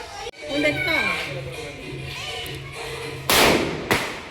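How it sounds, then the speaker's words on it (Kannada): People talk nearby at New Year, then a Lakshmi firecracker goes off with a sharp, loud blast, followed moments later by a quick second crack. "ಲಕ್ಷ್ಮಿ ಪಟಾಕಿ"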